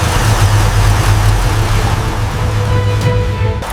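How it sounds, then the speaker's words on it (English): Restored 1965 Rolls-Royce engine idling smoothly after starting, a loud steady low rumble with an even hum throughout, close by and without voices. "After everything, the engine finally starts again."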